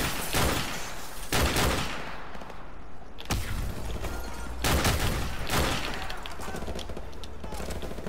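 Rapid gunfire from a soldier's weapon in the Call of Duty Modern Warfare Remastered campaign mission Charlie Don't Surf, loud sustained bursts with brief gaps, close and dense, filling the whole stretch amid battle noise.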